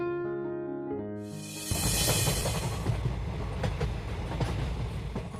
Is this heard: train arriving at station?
yes